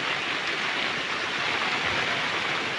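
Steady, dense rain pours down over a farm with growing crops, a continuous close hiss with no pauses or other sounds.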